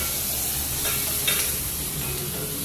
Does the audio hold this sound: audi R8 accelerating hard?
no